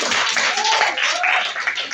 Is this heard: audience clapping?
yes